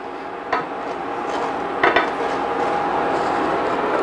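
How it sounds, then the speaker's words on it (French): A utensil scrapes the bottom of a pan holding a sauce of apple cider, with a steady rasping and a couple of sharper metallic scuffs, heard close. "On gratte en même temps le fond de la poêle"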